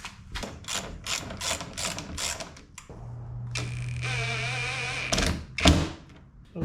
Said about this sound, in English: tighten those up.